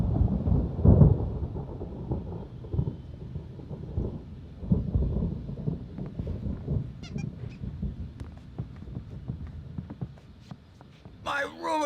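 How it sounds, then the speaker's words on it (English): Rolling thunder from a storm in the video game Alan Wake Remastered, deep rumbles swelling and fading in waves, with a few sharp higher noises near the end. "There's a storm coming."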